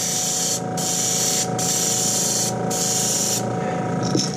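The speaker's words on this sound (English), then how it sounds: "we're just going to shoot a little light spray down the back." Steady hissing spray from an airbrush painting a metal shad fishing lure, running in several long bursts separated by brief pauses, close and fairly loud.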